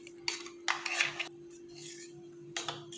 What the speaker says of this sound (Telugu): చక్కగా పాయసంలా కలపాలి